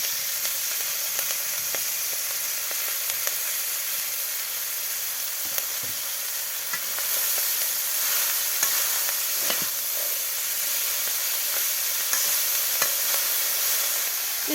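Leafy shak greens tossed into a hot pan with salt, turmeric and spice paste sizzle loudly and steadily while being stirred, a close continuous hiss with occasional scraping stir sounds.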